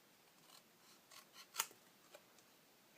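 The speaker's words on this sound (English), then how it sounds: "now I am going to cut it out." Scissors cutting paper for a small treat box craft, a few quiet snips building to one sharp, close cut, then a couple of fainter snips in a quiet room.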